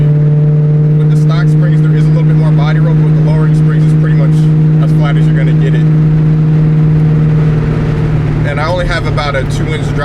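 Steady in-cabin drone of a 1999-2004 Ford Mustang GT New Edge with lowering springs being driven, a low constant engine hum that shifts pitch near the end, with someone talking over it throughout.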